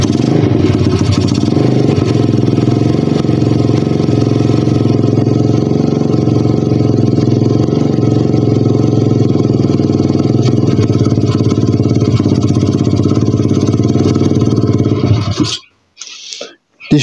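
Pitbike 125 motorcycle engine idling loud and steady up close with a rough drone, then abruptly stalling near the end and leaving near silence with a few sputters.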